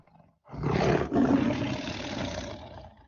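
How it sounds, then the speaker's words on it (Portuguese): A recorded tiger roar bursts out loud and close, a deep rough growling blast with a brief break before a second long sustained roar that slowly fades, heard alone with no voices. "Se eu te perguntar que som é esse, você vai dizer que é o som de um tigre."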